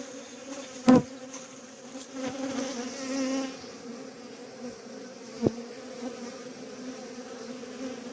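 Honeybees buzz around an open beehive in an apiary during a mite treatment check, a continuous moderate drone from many bees with a couple of sharp knocks.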